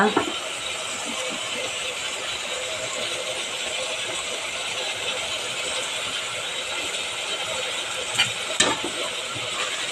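Shrimp being stirred into masala frying in a pan for shrimp biryani gives a steady, close sizzle throughout, with faint scraping and stirring clatter and a couple of brief sharper knocks near the end.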